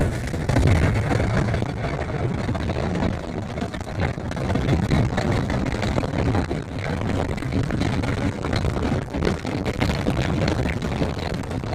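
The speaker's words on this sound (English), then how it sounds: "I'll downshift to 4th gear and let's see the acceleration" A Hero Xpulse 200T motorcycle engine pulls hard after a downshift into fourth gear, a steady broadband drone with rushing wind noise, continuous and close throughout.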